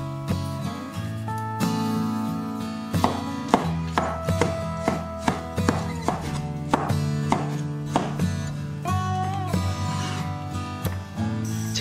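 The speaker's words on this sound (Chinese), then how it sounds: "番茄切成小块" A knife chops tomato into small pieces on a cutting board, a long run of crisp, evenly spaced taps with a few quicker bursts, close and clear over steady background music.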